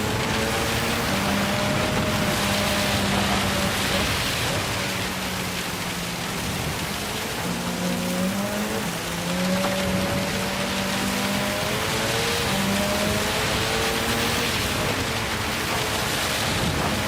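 Heavy rain hisses steadily through a Gran Turismo 7 race at Le Mans, a dense wash of spray and patter with engine tones rising and falling underneath, constant and loud throughout.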